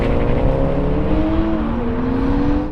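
A Toyota Supra accelerating hard in a rolling race from 50 mph, a steady, strained engine note climbing in pitch through the gear, loud and close with no talking.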